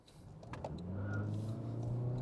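A Toyota C-HR GR-Sport's 197-horsepower engine rises in pitch as the all-wheel-drive car accelerates hard, the steady roar building inside the cabin with no talking.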